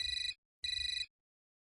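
Telephone rings twice in a domestic drama scene, each a short trilling electronic burst separated by a brief silence, clear and close with no talk.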